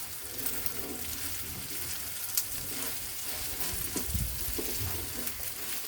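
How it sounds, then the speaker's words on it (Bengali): Fish fry seasoned with roasted cumin powder sizzles softly in a pan while being stirred, with a few scraping knocks from the utensil, fairly quiet and close with no speech. "ভাজা জিরার গুঁড়ো দিয়ে আবারও নেড়ে নিব।"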